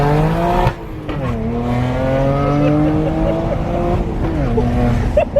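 BMW N54 335i twin-turbo engine pulling hard in first gear, a loud close rising engine note heard from inside the car that drops at a shift, climbs again and drops once more.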